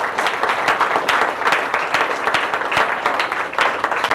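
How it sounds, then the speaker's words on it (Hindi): An audience breaks into sustained applause, a dense, fairly close wash of clapping that holds steady throughout. "उनके लिए एक जबरदस्त ताली होनी चाहिए"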